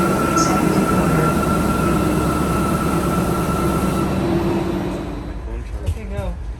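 Steady rumbling roar of a TexRail commuter train in motion, loud and continuous, with a faint high squeal; the noise eases near the end as people start talking nearby.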